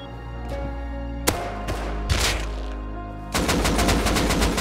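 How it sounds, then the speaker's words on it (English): AK rifle fire during a raid in the Rust video game: a few isolated shots, then a dense rapid automatic burst near the end, loud and close. "they come outside with AKs"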